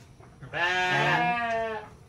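A goat or sheep close to giving birth lets out a single loud, drawn-out, quavering bleat close by, lasting over a second, with quiet background before and after.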